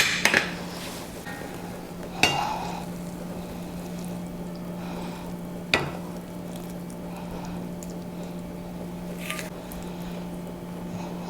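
Bheja fry masala, spiced goat brain, is spooned out of a pan: a few sharp metal clinks spaced seconds apart over a steady low background hum.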